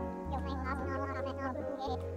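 Cats meowing in a cat cafe inside a video game, a few bright harmonic meows over a steady background hum, with a person talking over them.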